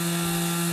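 A power tool drones continuously at a house renovation site, a steady buzzing whine with a strong tonal hum, moderately loud and unbroken throughout with no talk over it.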